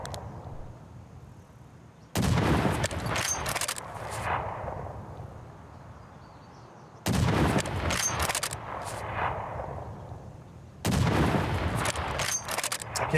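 Three loud, sharp sniper rifle shots in the video game Escape From Tarkov, each a sudden full-band crack trailing into a long fading echo, spaced several seconds apart with quiet ambience between.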